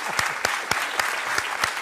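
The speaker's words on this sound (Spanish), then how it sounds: "Pues vamos a darle un aplauso." Sparse applause from a small group at a Canary Islands Christmas Eve parranda broadcast, a handful of distinct claps spaced through the moment rather than a dense ovation.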